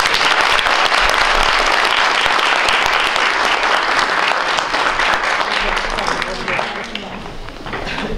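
Audience applause at a Romanian novel launch event, a long, loud, dense wave of clapping from the crowd that holds steady before easing off near the end, with some voices mixed in.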